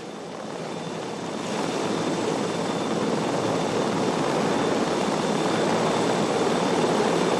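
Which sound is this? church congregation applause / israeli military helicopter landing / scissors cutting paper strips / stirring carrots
israeli military helicopter landing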